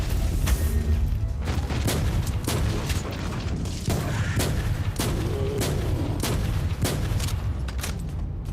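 Rapid heavy gunfire in Warhammer 40K: Inquisitor - Martyr, a steady stream of loud booming shots at close range with mechanical clatter and impacts, and no voices over it.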